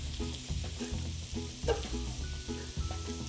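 Smashed potatoes fry in a cast iron skillet, a steady close sizzle broken by repeated scraping and clanking as they are stirred or turned, with no one speaking.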